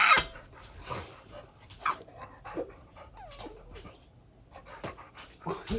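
A pit bull pants and sniffs busily close by, quick breathy huffs and snuffling bursts coming in uneven clusters, with occasional faint whimpers and no talking.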